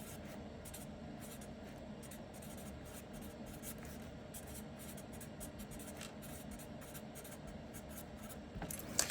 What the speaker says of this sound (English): so I'm just going to write that down again because this is a repeated number.